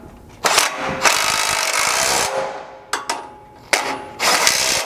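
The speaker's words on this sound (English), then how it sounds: "you'll just need a 14mm socket to tighten these up" Close ratcheting and metallic clatter as a 14mm socket tightens the mounting bolts of a front bumper on a third-generation Toyota 4Runner, in a few loud sustained bursts separated by brief gaps.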